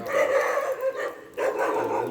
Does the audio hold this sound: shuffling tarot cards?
no